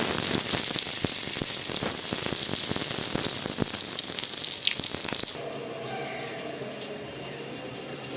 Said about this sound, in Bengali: বাইরে এখন ভীষণ বৃষ্টি হচ্ছে